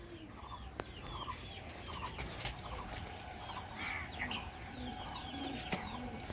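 Female Madrasi flying pigeons of the Andhra type coo and murmur in a loft, with several overlapping soft calls, chirps and a few sharp clicks at a moderate distance.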